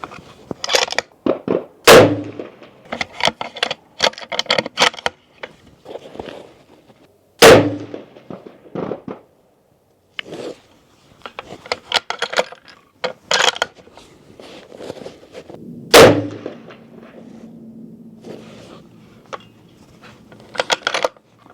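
Three loud, widely spaced shots from a Horizon Vandal rifle fired for a group at a range, each a sharp crack with a short ring-out, separated by clicks and rattles of bolt handling and gear.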